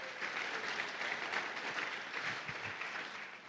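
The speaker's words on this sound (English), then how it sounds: "Give them another round of applause" Audience at a startup week kickoff keynote applauding two presenters, a steady, fairly faint wash of clapping that holds evenly throughout without voices on top.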